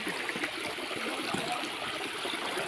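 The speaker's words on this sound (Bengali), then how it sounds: "এই ঝর্ণাটা 9টি ঝর্ণার মধ্যে প্রথম ঝর্ণা।" Khoiyachara waterfall in the hills, a steady rushing wash of falling water that stays even throughout, moderately loud and broad, with no voices.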